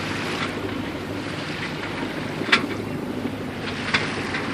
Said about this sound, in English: I've got the diesel just above idle, so we're going to just kind of trudge along real slowly